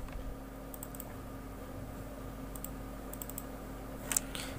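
Typing on a computer keyboard while composing text in Microsoft Word, with soft, sparse key clicks scattered over a steady low background hum, one sharper cluster of taps near the end.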